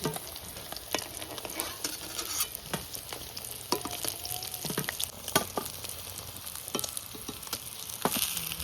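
Pieces of snakehead fish fry in hot oil, a constant crackling sizzle close by, punctuated by irregular spattering pops and occasional clinks of a spatula, with no one talking.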